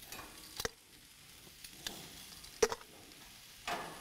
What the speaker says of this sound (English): I like to cook the peppers skin side down the first time through